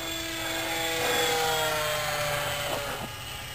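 Nitroplanes 800mm Corsair RC plane motor running steadily, a continuous high-pitched electric whine with a slight rise and fall in pitch, fairly constant and unaccompanied.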